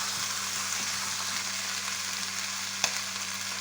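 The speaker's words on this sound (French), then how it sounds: "Là, on met notre oignon et notre ail. Voilà, on remue." Onion and garlic sizzle in a frying pan, a steady moderate crackle with soft stirring scrapes and one brief sharp tap, no talking over it.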